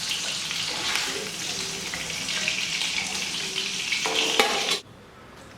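A steady, hissing sizzle of chicken pieces frying in hot oil runs throughout, loud and close, then cuts off abruptly near the end.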